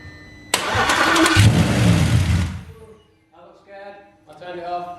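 An Audi RS4 engine with no exhaust connected cranks and fires into a loud, rough roar for about two seconds, then cuts off, followed by a voice talking close by.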